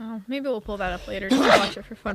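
A single sharp sneeze bursts out midway through casual conversation on a livestream, with voices talking before and after it.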